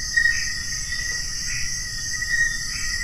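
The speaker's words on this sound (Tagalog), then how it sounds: "Maliban sa kuliglig." Crickets chirp steadily at night in a mountaintop public cemetery, a continuous high trill with slight pulsing swells, moderately close and with no voices.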